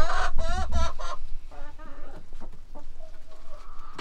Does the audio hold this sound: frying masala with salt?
no